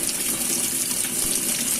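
A Fujidenzo JWA8500 8.5 kg automatic washing machine fills with water, a steady, loud, close gush of running water pouring into the tub without pause.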